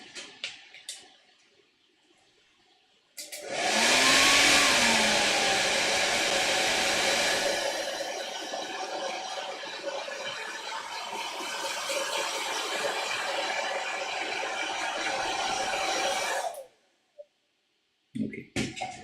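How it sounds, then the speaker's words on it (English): A hairdryer switches on and blows loud and close with a steady whooshing roar for about thirteen seconds, then cuts off abruptly into near silence. "I will use my hairdryer."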